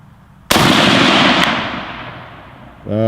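A single loud rifle shot from a WWII Russian sniper rifle, a sharp crack followed by a long rolling echo that fades out, with a voice starting briefly at the end.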